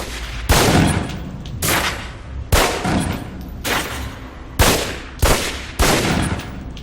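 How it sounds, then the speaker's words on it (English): Seven sharp pistol shots fired at a shooting-range target in the video game Alpha Protocol, loud and spaced irregularly about a second apart, each with a brief ringing tail and no talk. "Equip the pistol, then aim down range and take some shots at the target."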